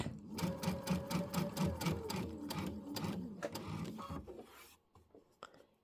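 A sewing machine stitches down the scallop border of a star-spangled quilt, its rapid mechanical needle rhythm running steadily for about four seconds, then easing off into slower, sparse single stitches and near silence.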